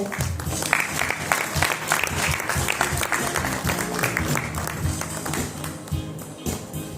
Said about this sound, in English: I congratulate her and request the audience to applaud for her.